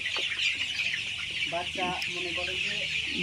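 Young Tiger breed chickens cheep and cluck in short bursts over a constant hissing background at a hatchery, with a few soft calls clustered toward the end.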